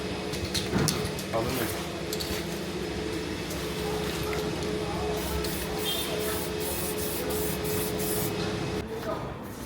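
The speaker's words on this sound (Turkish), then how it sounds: "Şimdi sprey boyayla griye boyuyoruz." A spray paint can coats motorcycle parts grey for a modified Suzuki TS125 build, giving a steady close hiss through the whole stretch with a few light clicks and rubbing noises, and a voice speaks briefly.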